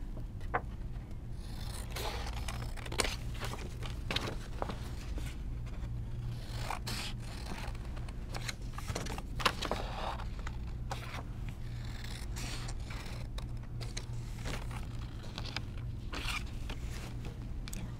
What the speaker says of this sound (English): take your scissors and you're going to cut from the corner to that little mark you made